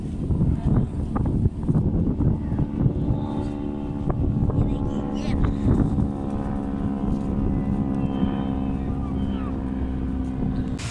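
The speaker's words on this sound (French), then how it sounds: "vous pouvez peut-être entendre qu'il y a énormément de vent" Strong wind buffets the microphone at the seaside in Gruissan, a loud continuous rumble with gusts throughout, with a steady low engine-like hum and faint background sounds underneath.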